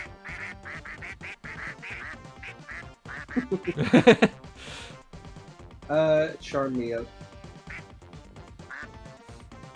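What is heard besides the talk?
duck quack sound effects from Monster Con video game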